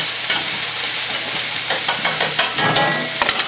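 Ingredients for a pork tenderloin with rhubarb cherry chutney are stirred around a hot frying pan, a steady broadband sizzle with repeated scraping strokes and soft clatters, loud and close, no voices.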